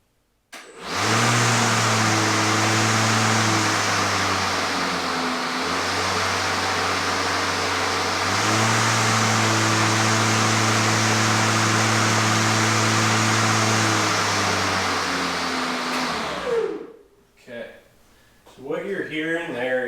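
A Milwaukee M18 FUEL electric push mower starts up and runs with a loud steady whir whose pitch shifts between modes, then cuts off abruptly near the end, leaving a few seconds of quieter handling noise.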